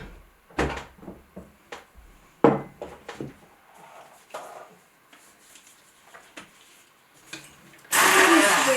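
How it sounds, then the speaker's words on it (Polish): Kitchen blender whirring through nettle pesto ingredients, starting up loud and close after a series of knocks, clatters and lid handling. "Wszystko blendujemy"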